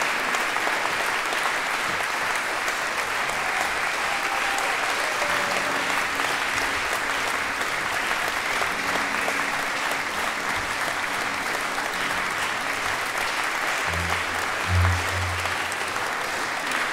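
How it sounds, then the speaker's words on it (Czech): Steady, sustained audience applause at a benefit concert following an ecumenical service, a continuous wash of clapping with a faint low hum near the end. "Velký potlesk diváků"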